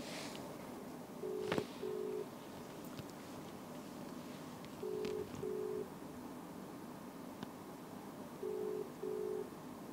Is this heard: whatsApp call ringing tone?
yes